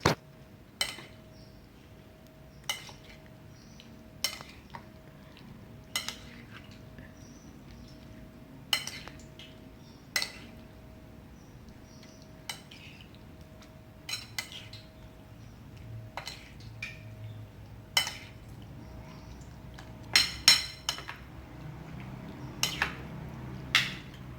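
A spoon clinks and scrapes against a pan while jengkol sambal is stirred, sparse sharp taps spaced every second or two over a quiet, faintly humming background.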